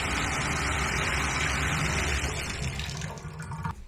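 Water gushes from a bathtub faucet in a loud, steady rush close by, then tapers off toward the end as the flow is shut.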